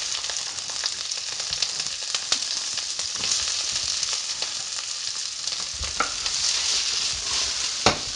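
Onions and peppers fry in a pan with leftover fat, giving a steady, dense sizzle with crackling pops and occasional scrapes, heard close and alone without talking.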